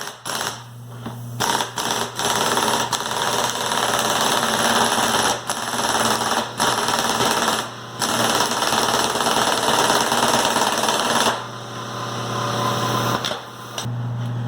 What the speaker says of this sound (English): What we want to do is just tighten down that bolt.